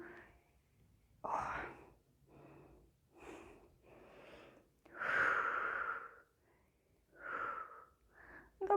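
Heavy, audible breaths during an exercise workout come in a slow rhythm of drawn inhales and long exhales. They are close and fairly quiet, with faint whispery sounds between them.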